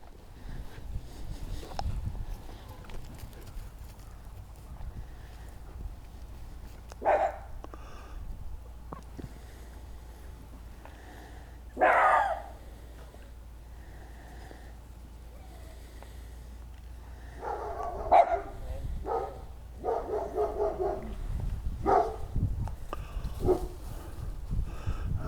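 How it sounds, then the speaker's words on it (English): Several dogs bark intermittently in the distance, with scattered short yaps and a few louder clustered barks spread over a quiet background. "I know, lots of dogs, huh? Lots of dogs."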